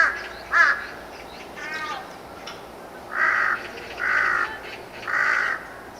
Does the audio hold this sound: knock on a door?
no